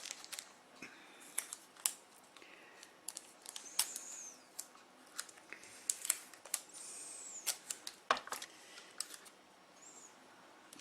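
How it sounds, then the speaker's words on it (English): Strips of invisible tape are torn off a roll for a shadow box with rope lights, heard as scattered crisp ripping and clicking bursts at close range, irregular across a quiet room. "I'll just tear a couple of strips off"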